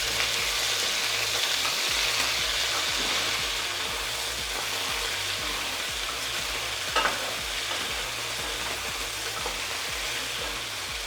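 Beef for Mongolian beef sizzles and fries steadily in a hot pan, a loud continuous hiss with a low, regular rumble and one brief louder scrape as the meat is moved.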